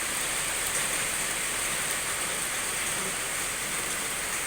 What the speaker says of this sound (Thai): ก็คือว่าฝนกำลังตกใหม่ ทางเฮาก็เริ่มเทแล้วแหละ